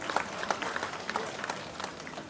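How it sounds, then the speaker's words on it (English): A small crowd at an outdoor cultural gathering at a statue site in Debe claps in scattered, uneven bursts, fairly faint and thin rather than a full ovation. "Give him a round of applause, ladies and gentlemen."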